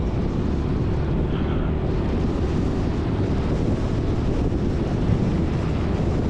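Strong crosswind buffets the microphone on a bicycle ride, a loud, continuous low roar of wind noise with no pauses for the whole stretch.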